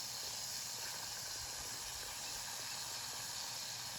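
Steak searing in a pan for steak Diane gives off a steady, soft, even sizzling hiss that holds unbroken throughout, with no talk over it.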